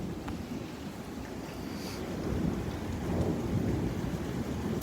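Thunder rumbles low and heavy through a Houston storm, swelling in the second half over a steady wash of rain.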